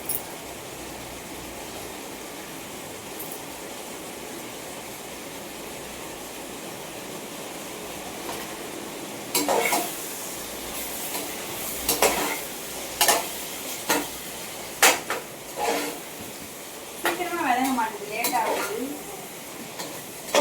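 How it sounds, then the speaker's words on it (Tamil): Ginger garlic paste sautéing in a pan, a low steady sizzle with metal scraping and stirring clinks that grow louder and more frequent in the second half, no talk present. "இஞ்சி பூண்டு பேஸ்ட் போடலாம் வதங்கிட்டு இருங்க"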